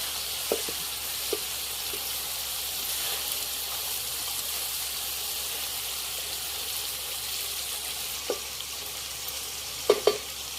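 Large pieces of country chicken cook slowly on low heat in a village-style curry, giving a constant soft sizzle and hiss with a few faint clicks and utensil knocks near the end.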